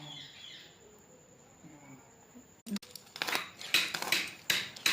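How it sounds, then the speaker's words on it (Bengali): A large four-kilogram boal fish being cut into pieces: after a quiet start, a run of loud, close, irregular chopping and scraping strikes, with faint bird chirps in the background. "এখানে দেখো মাছটা কাটা হচ্ছে।"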